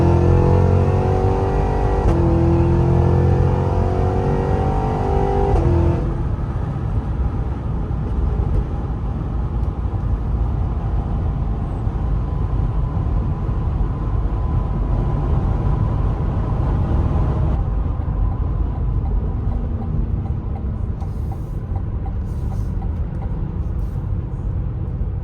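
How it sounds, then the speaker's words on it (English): A supercharged Cadillac Escalade V engine fitted with a large aftermarket air intake runs and revs loudly and steadily for the whole stretch, with supercharger whine over a heavy rumble and no talking. "make the blower a little bit louder, because it would be cool to hear the supercharger a little bit more"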